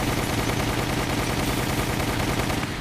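Rapid sustained bursts of submachine gun fire in Resident Evil: The Umbrella Chronicles, a dense continuous rattle of shots, loud and close for nearly three seconds before stopping abruptly.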